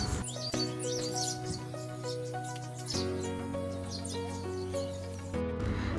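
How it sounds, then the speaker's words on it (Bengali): Many birds chirp and tweet busily in the background in a village, layered over steady sustained tones that shift in pitch, continuous throughout. "চারপাশে কিচিরমিচির পাখির আওয়াজ"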